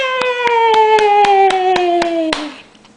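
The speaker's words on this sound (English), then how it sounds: "Can we do clap, clap, clap?" About nine quick, evenly spaced hand claps from a small child ring out over a sustained high tone, ending with one final clap before fading.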